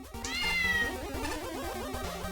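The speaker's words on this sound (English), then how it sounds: "Here's your cat." A cat meows in a fan-made Mega Man video game level, a long drawn-out meow rising and falling, loud and close, over chiptune game music.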